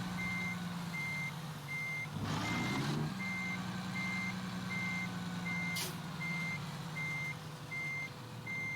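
A truck's reversing alarm beeps steadily at an even pace over a low idling engine hum, with a brief hiss of air partway through, in the game American Truck Simulator.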